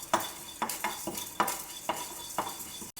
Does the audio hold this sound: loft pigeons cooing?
no